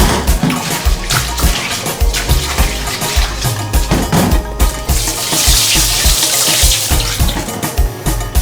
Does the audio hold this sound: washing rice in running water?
yes